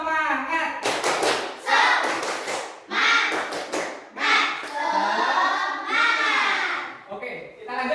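A classroom of students joins in a spirit clap routine, bursts of loud group clapping in quick rhythmic clusters alternating with chanted voices.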